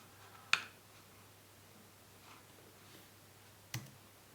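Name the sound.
computer mouse clicking on a 3D model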